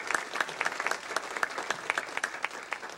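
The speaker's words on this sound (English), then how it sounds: "How about another round of applause for our MC, our Master of Ceremonies, Mike Crilly." Audience applause for the master of ceremonies at the Pacifica Sports Awards dinner, a steady spatter of many hands clapping with sharp individual claps standing out, moderately distant and continuous throughout.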